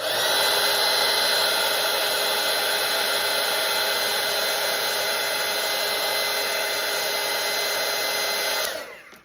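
A hair dryer dries a watercolour painting of a pumpkin, giving a steady, loud, close whooshing hum with a whining tone that runs without break before switching off at the end.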